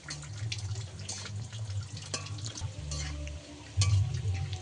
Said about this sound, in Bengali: এইভাবে লাড়িয়ে চাড়িয়ে পুরো লাল লাল করে ভেজে নিতে হবে